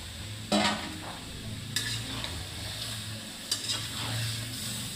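A spatula stirs a pan of Sonali chicken curry with potatoes and a little water, scraping in three distinct strokes over a steady low sizzle, close by.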